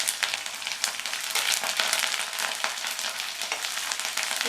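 Curry leaves, green chillies and cashews sauté in an oil-filled pan while a vegetable rice is cooked, giving a steady, close, bright frying sizzle with a few crackling pops and no talk over it.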